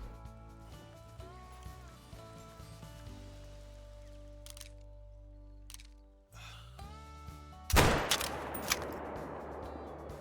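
A single loud rifle shot cracks out in the hunting game theHunter: Call of the Wild, bursting abruptly after a quiet stretch of ambient music and tailing off into a rumbling echo.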